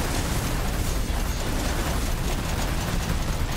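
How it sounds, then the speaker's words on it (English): Dense, continuous explosion and popping effects from the Soulstone Survivors video game, a loud unbroken wall of bursts like fireworks spraying area-of-effect blasts, with no gaps or talk. "Those are some Gandalf level fireworks right there."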